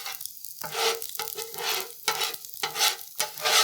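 Eggs fry on a Blackstone griddle for chicken fried rice, giving a steady sizzle broken by repeated scraping and stirring strokes of a spatula, close and fairly loud with no talking.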